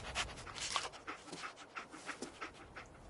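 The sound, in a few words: dog panting in Fallout 4 video game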